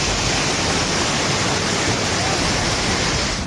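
Floodwater of the Yangtze River rushes past in a loud, unbroken roar of churning water, steady throughout with no pauses.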